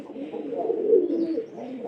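Pigeons in a loft give a soft, low, rolling coo close by, one continuous murmuring call that swells briefly in the middle.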